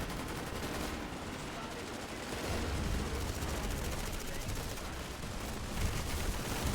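Dense, continuous video-game gunfire rattles without pause, several weapons firing at once in a steady roar of rapid shots.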